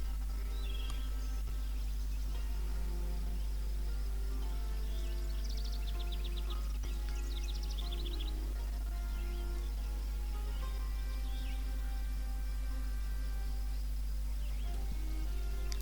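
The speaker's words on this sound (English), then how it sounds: "I like the sound of birds in the background." Birds chirp in the background of a video game's scene audio, a scatter of faint bright calls that cluster midway, layered over a steady low hum and soft rain-like texture.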